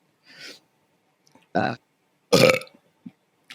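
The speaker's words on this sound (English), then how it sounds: "Is it us chugging our drinks for ASMR leads to burps?" Several separate burps from people who have just chugged drinks, close and loud, coming in short bursts with silent pauses between them.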